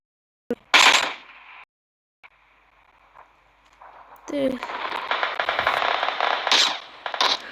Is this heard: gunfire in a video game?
yes